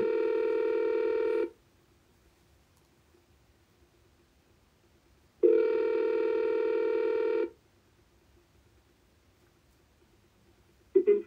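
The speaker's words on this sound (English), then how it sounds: "Lola, this man does not want to answer my calls" A phone call rings out on the caller's end with two long, steady ringback tones separated by about four seconds of near silence. A brief click follows before the call goes to voicemail.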